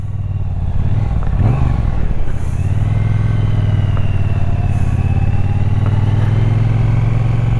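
A 2018 Triumph Bonneville on Pirelli tires rumbles steadily while being ridden, its engine drone loud and continuous with a brief throttle swell near the start and wind rush over the top.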